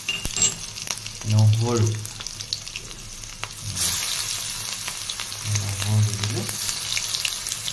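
Onion and panch phoron sizzle in hot oil for a fish curry, a steady close frying hiss with a few louder bursts while a person talks over it.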